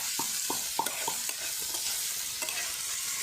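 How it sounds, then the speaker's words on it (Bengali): Green peas sizzling in hot oil in a wok for a village-style vegetable soup, a steady fizzing hiss broken by a run of quick spatula scrapes and taps, close and fairly quiet, no voices. "কড়াই গরম হয়ে গেছে, এবার তেলটি দিয়ে দিচ্ছি। মটরশুঁটি সব দিয়ে দিচ্ছি আমরা।"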